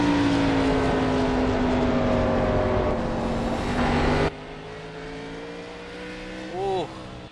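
Race cars lapping the South Boston short track in an iCar Busch Series event, engines droning steadily with a loud pass, then a quieter engine note and a brief rev, with commentary talking over the engines.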